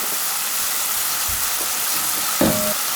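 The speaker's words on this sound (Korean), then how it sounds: "자, 바글바글 끓어오르죠?" Soy-sauce-based sauce for seasoned dried shredded squid bubbles and sizzles in a pan, a steady close hiss with a brief clink of a utensil near the end.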